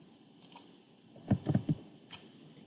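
An email address is typed on a computer keyboard: a few scattered soft key taps, then a short quick cluster of clicks, quiet and close in an otherwise still room.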